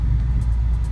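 A Mitsubishi Evo X pulling away gently, giving a deep, steady engine and exhaust rumble at close range with no sharp revving.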